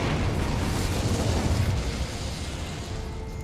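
Incendio fire spell cast in Hogwarts Legacy, a loud roaring burst of flame that rumbles, then eases into a softer, sustained fiery whoosh; no voice.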